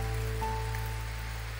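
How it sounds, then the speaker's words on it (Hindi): Steady, dense rain pours onto a surface, a continuous hiss with a low constant hum underneath. "अरे बाप रे, बहुत तेज हो गई बारिश।"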